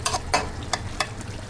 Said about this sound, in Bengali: তরৈ দিয়ে আলু দিয়ে চিংড়ি মাছ দিয়ে রান্না করছি